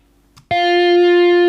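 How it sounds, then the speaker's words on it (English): A distorted electric lead guitar, with the gain raised for overdrive, strikes a single note after a faint pick sound, and the note sustains loud and steady without fading. "I will raise the gain here to get distortion"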